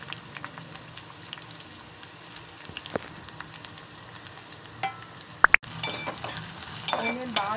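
Onions frying in hot oil with biryani leaf and flower for a biryani gravy, giving a soft steady sizzle, with light stirring clinks and a louder scrape and splash of sizzle near the end.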